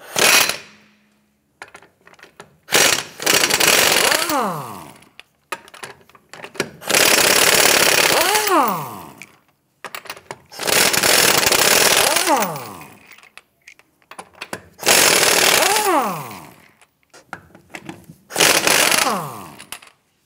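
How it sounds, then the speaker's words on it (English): Lug nuts come off a 2008-2013 Nissan Rogue wheel under a 21mm socket on a power tool: five loud, sustained whirring bursts, each ending in a falling whine, separated by clicks and handling noise. "Using a 21mm socket, let's get it loosened and remove the lug nuts."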